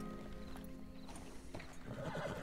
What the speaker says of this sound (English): I gotta find my horse. Is that my horse?